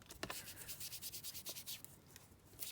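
Paper is rubbed with quick, repeated strokes while inking a paper envelope, a soft, close scuffing in a steady back-and-forth rhythm.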